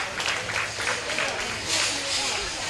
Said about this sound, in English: Let's give all the kids in this class a nice round of applause.